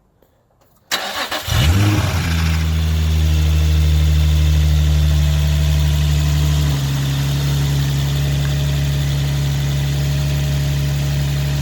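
A Nissan 350Z fitted with an induction kit fires up and settles into a steady, loud idle close by, a deep continuous rumble that dips slightly partway through as it warms up.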